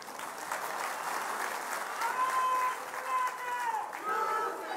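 A dense political rally crowd in Amravati, Maharashtra, gathered for a Shiv Sena event with Uddhav Thackeray, cheers and applauds loudly and steadily, with whistles and shouts rising through the roar.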